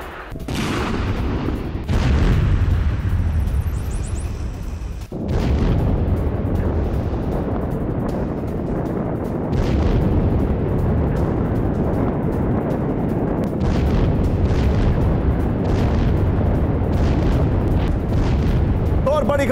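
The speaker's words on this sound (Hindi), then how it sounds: "ये देखिए रूस की ओर से सैकड़ों बार शेलिंग की गई है" Russian artillery shelling in northern Bakhmut, heard as a steady barrage of booms and sharp bursts over a dense, continuous roar of combat noise, with speech mixed in.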